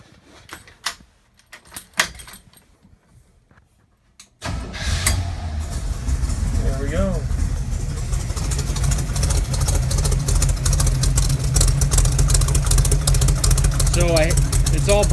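A cold 1978 Jeep CJ7 with a new exhaust is cranked and fires up after a few seconds of keys and handling noise, then settles into a loud, steady, rumbling idle with faint brief talk.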